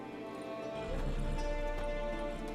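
Horse hooves clip-clopping in The Witcher 3, a steady trot of hoofbeats over a tonal game music bed, growing slightly louder partway through.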